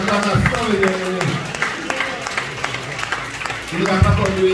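A church congregation applauds during a worship service, with scattered clapping running through the clip beneath loud voices that shout and sing throughout.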